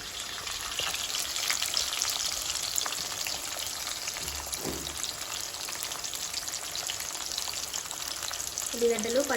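Onions and green chillies fry in hot oil in a home kitchen, a steady close sizzle with faint stirring, no talk.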